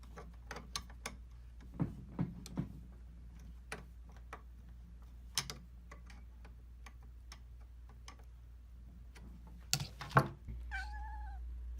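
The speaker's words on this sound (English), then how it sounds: "we want to go ahead and turn the hand wheel to make sure that everything moves the way we want it to" The hand wheel of a Singer Touch and Sew 620 sewing machine is turned after a gear replacement, giving sparse, soft mechanical ticks and clicks in a quiet room. A brief tonal, cry-like sound comes near the end.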